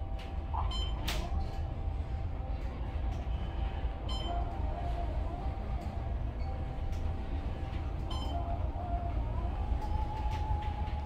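A 1971 Westinghouse Selectomatic elevator car at Tampa International Airport shaking and rumbling as it travels, a steady low rattling rumble lasting throughout with faint clinks and a hum.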